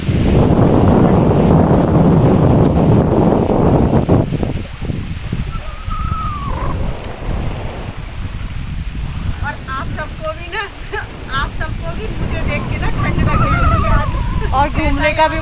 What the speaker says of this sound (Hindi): देखिए गंगा जी की लहरें